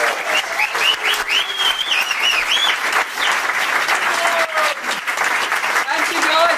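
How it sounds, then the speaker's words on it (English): An audience at a talk on debts and health gives loud, sustained applause with some cheering. Voices carry over the clapping throughout. "So please can I have a massive round of applause for Ceylon."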